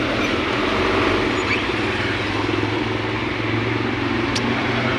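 Heavy road traffic on a congested route toward Cainta, heard as a dense, steady engine rumble and broadband roar from nearby vehicles, continuous throughout and without voices.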